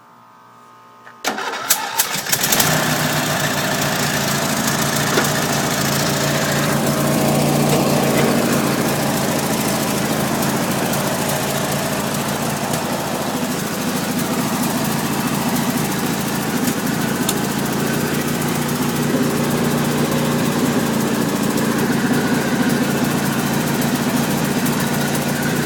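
A Mastercraft engine with a suspected head gasket fault cranks and catches after about two seconds, then settles into a loud, steady idle that runs uninterrupted up close with no talking.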